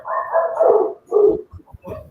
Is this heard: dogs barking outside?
yes